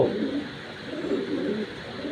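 A racing pigeon coos close by, a soft, continuous throaty burble with no other sound.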